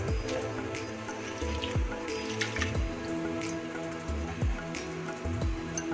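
Chana dal lentils being rinsed with water in a bowl at home, with continuous splashing, dripping and trickling close by, steady and fairly quiet throughout, no talking.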